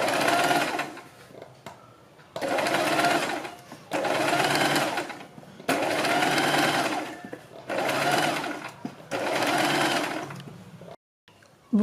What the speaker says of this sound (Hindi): बीच में सिलाई लगाने के बाद हम बुकरम के बिल्कुल बराबर में पूरे गले के ऊपर सिलाई लगाएंगे।